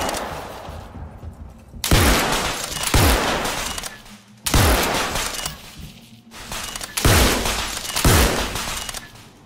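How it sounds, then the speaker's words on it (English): An electric shotgun in the Star Citizen first-person shooter fires a series of loud, sharp blasts, about six shots spaced a second or two apart, each followed by a ringing, echoing tail that shifts as the space changes. "Now hear how the electric shotgun sounds as we move to other spaces."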